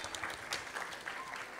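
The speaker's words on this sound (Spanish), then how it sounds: "Bueno, un aplauso" An audience at a school dance showcase breaks into sustained applause, a dense even patter of many hands clapping at a distance, faint and steady, with no speech over it.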